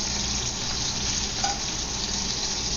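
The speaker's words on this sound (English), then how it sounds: "I'm going to add a splash of cooking oil. And I'm going to fry the spam first." Spam sizzles in a splash of cooking oil in a frying pan as it browns, giving a dense, steady crackling and spitting close by with no talk.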